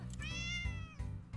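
A cartoon cat meows in the mobile game Doggie Dash, one drawn-out, high-pitched meow heard clearly over steady game background music, with no talking.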